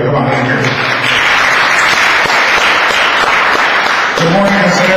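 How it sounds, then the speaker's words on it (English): Dense, continuous audience applause for Bobby Verdugo at the El Sereno community learning faire, a crowd clapping steadily throughout with voices talking over it at the start and end. "A round of applause for Bobby Verdugo, everybody."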